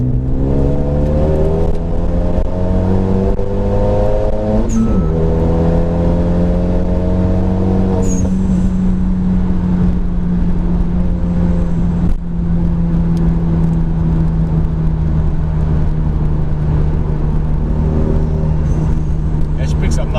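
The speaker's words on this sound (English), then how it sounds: "Yeah, she picks up nice and smooth" A Renault Megane RS 250 Cup Lux, tuned to 310 bhp, accelerating hard from inside the cabin, engine note climbing through a gear, then a change near five seconds and a long steady pull, loud and close, with people talking over it.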